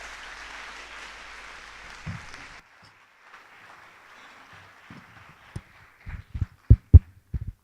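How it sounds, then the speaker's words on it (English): A lecture audience at IIM Ahmedabad's Chaos event greets a speaker with a soft, hissing burst of applause that fades after a couple of seconds, followed by scattered thumps and knocks. "Let's welcome him with a big round of applause."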